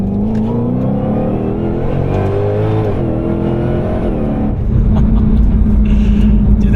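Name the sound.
Ford Shelby GT500 S550 engine revving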